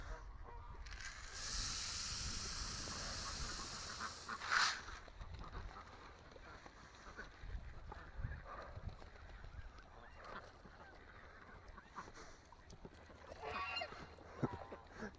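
Ducks honk and quack at low volume on a farm, in scattered calls over steady outdoor background noise, with a louder burst near the start.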